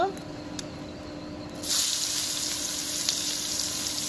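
Onions go into hot oil while cooking rohu fish curry; after a quiet start, a loud, steady sizzle swells up abruptly and keeps hissing to the end.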